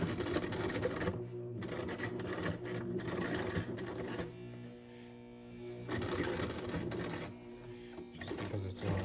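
A sewing machine stitches through thick layers of face mask fabric, its motor whirring loudly and steadily in close runs that stop briefly and start again.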